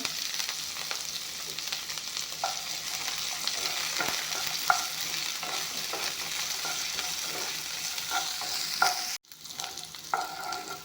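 Onion, green chili, ginger and garlic frying in a pan with a steady close sizzle and occasional stirring scrapes, then a brief cut near the end before the frying resumes, with no voices.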